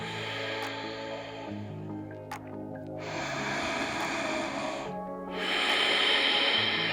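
Steady, close-up breathing during a yogalates workout, held in a squat with hands at the heart, with long hissing inhales and exhales swelling and fading in turn and no talking.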